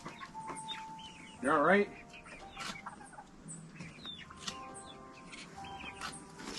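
Chickens on a homestead in Puerto Rico cluck and chirp close by, with one loud warbling call standing out, while a person talks to them.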